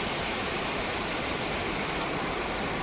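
A waterfall near a dam pours steadily, a loud, dense, unbroken rush of water close by with no other sounds standing out.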